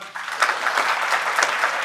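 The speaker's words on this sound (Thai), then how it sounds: "ขอเสียงปรบมือต้อนรับ" A crowd claps steadily for a couple of seconds, a dense wash of applause with no voices over it.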